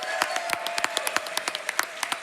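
An audience applauds in a room after a Clone Hero guitar-rhythm game showcase at a speedrun marathon, a steady wash of many hands clapping with sharp individual claps popping out, fairly close and continuous throughout.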